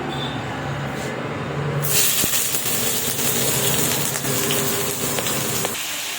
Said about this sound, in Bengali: তেলটা গরম হলে তারপরে কিন্তু আমি পেঁয়াজ কুচিটা তুলে দেব।